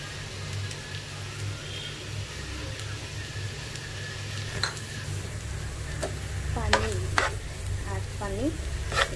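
Paneer sautéing in a pan for stuffed mushrooms, giving a steady close sizzle with scraping stirs and a few sharp clinks of a utensil against the pan near the end.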